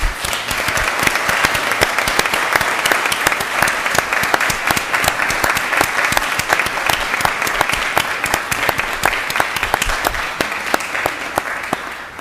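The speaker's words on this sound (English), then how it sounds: "Let's give a round of applause." A courtroom audience applauds new members of the Florida Bar at their induction ceremony, strong steady clapping from many hands that holds level before easing slightly at the end.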